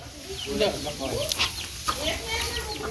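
Hens on a farm raising white-egg-laying birds cluck in short, close bursts, with a brief flutter of movement and people talking nearby.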